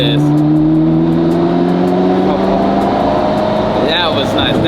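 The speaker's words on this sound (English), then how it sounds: "You hear those turbos spool up in your ear" A Ferrari race car accelerates hard with turbos spooling up, a loud, steady engine drone rising in pitch from inside the cabin, with a high turbo whine and brief chirping sounds near the end.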